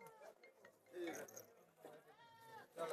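Goats bleating on a goat farm, a few calls rising over background chatter and people talking nearby, moderately close.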